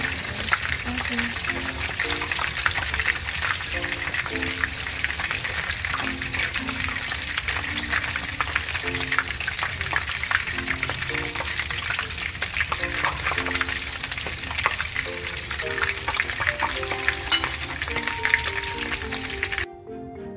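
Lumpia shanghai deep-fry in hot oil, making a dense, constant crackling hiss that runs throughout, with soft background music beneath and an abrupt stop at the end.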